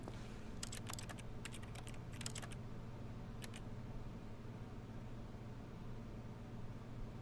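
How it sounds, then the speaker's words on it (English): In the game The Stanley Parable, mouse clicks make a crisp clatter like keyboard keys. The clicks come in quick clustered bursts, then one short pair, over a faint steady hum. "It sounds like I'm clicking a keyboard when I click on anything."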